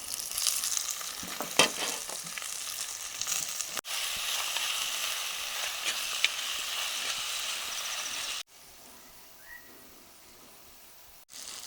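Chopped onion, green chili and tomato frying in hot oil in a pan for a Kerala-style red fish curry, a steady close sizzle with a few stirring scrapes, dropping to a quieter hiss near the end.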